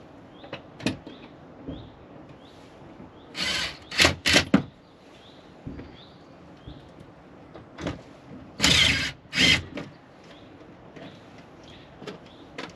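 A power driver runs small screws into a VW T5 van, with several short whirring bursts in pairs between quieter taps and handling sounds, close up and with no talking.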